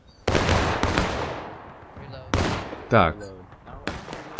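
Gunfire from the video game War of Rights: several sharp, loud shots with echoing decay ring out at irregular intervals, with someone briefly speaking between them.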